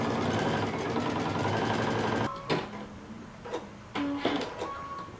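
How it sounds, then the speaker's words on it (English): A home sewing machine stitches a continuous side seam on a dress, running loud and even for about two seconds, then pausing with short restarts and clicks. "we're going to sew one continuous seam from the bottom all the way up our sides and through our arm"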